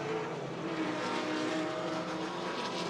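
Race cars, including a B-tuned BMW M4, a Scirocco and Toyota 86s, howl through turn 6 on a circuit as a steady loud engine drone passing at a distance.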